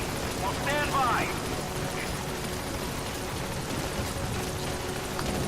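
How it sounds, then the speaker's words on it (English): An upgraded helicopter in Metal Gear Solid V flies in to a landing zone, its rotor making a steady loud thudding roar throughout, with a short voice heard early on over the engine. "Yeah, I got the helicopter pretty well upgraded. He just flies in super fast."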